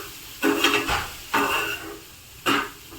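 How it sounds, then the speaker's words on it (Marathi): Boiled corn kernels fry with spices in a pan for cheese corn, with three close bursts of stirring and scraping over a soft sizzle. "आणि तुम्ही पाहू शकता आपले कॉर्न छान फ्राय होत आहेत."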